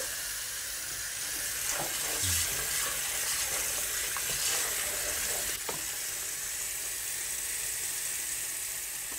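Steady, dense sizzling fills the whole stretch as hot water meets melted fat in a pan on the stove for a rustic Ardèche potato dish, loud and close with faint stirring knocks underneath.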